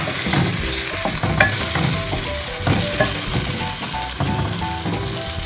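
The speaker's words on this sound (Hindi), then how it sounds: "मसाले अच्छे से फ्राई हो चुके हैं" Chicken, onions and spices sizzle and fry in a pan for Sindhi biryani, with a steady close crackle broken by stirring scrapes and spoon knocks, no voices over it.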